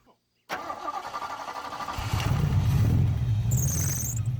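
An engine in a cheap vintage muscle car cranks and catches, then settles into a loud, rough, rumbling run that grows heavier after about two seconds. Voices come through near the end.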